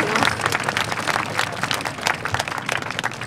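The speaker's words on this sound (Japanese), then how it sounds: "皆さん拍手ありがとうございます" Festival crowd applauding the student organizing committee at the Kagoshima Haru Matsuri Ohanya 2024 main venue, a lively burst of many hands clapping close and fairly loud for a few seconds.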